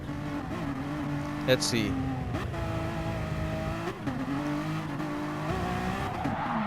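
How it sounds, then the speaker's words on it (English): A race car spins out in a racing video game after getting on the power too quickly, with a steady engine drone and brief tire squeals under a commentator's voice. "Got on the power too quickly and just spun round."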